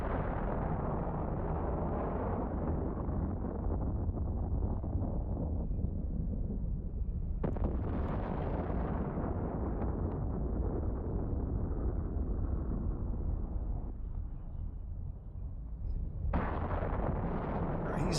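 Smart bomb blasts in the spaceship game EVE Online roar as a dense, continuous rumbling wash of explosions, loud and sustained, with sharper new bursts cutting in twice.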